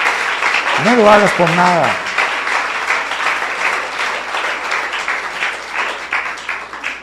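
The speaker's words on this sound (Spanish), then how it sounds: "Da un aplauso al Señor." A church congregation breaks into sustained applause, a dense wash of clapping that carries on steadily while someone speaks briefly over it at the start.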